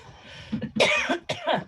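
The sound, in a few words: cough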